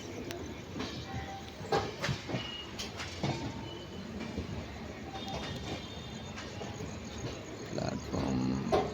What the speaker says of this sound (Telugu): ట్రైన్ అయితే సికింద్రాబాద్ రైల్వే స్టేషన్లోకి వెళ్ళిపోతుంది.